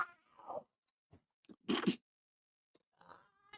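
A voice imitates a cat's meow in a short, nasal burst between quiet pauses and scattered bits of nearby talk.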